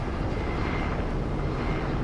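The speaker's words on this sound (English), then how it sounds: "Looks like someone found a helicopter already." A helicopter flying in the video game Fortnite gives a steady, loud engine drone with a broad rumbling roar that holds evenly throughout, with no talking.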